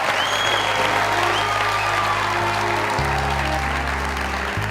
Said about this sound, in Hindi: आप लोगों की जोरदार तालियों में मिस्टर शेर मियांदाद, प्लीज कम ऑन।